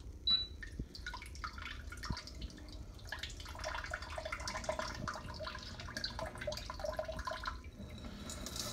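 A bidet seat running its wash cycle, water spraying in a faint, steady hiss with light dripping and splashing, a few soft clicks early on.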